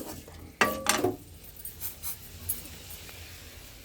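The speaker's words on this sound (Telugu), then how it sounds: "చికెన్ని ఆయిల్ వేసుకోకుండా చికెన్ వేసుకొని ఉప్పు పసుపు వేసుకొని ఇట్లా చేసేసుకోవాలి" Raw chicken tossed in a dry pan with salt and turmeric, with a sharp metallic clatter of a spoon against the pan, then softer scattered scrapes and taps, close and moderately quiet.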